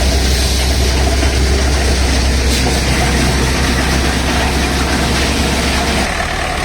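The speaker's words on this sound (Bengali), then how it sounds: "দেখুন এবার ট্র্যাক্টরের সঙ্গে ফিট করে দিয়েছে মোটর চলছে ঘুরছে" A tractor-driven motor powers a mustard threshing machine, a loud, steady mechanical drone with a low engine rumble and broad rattling noise that runs continuously, easing slightly near the end.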